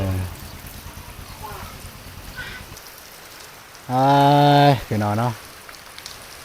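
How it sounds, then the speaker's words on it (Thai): Steady rain patters across a rural outdoor setting, a continuous wash of drops, while someone talks over it and briefly calls out loudly. "ฝนฟ้าบ่อำนวยความสะดวกนะบ่เนาะ"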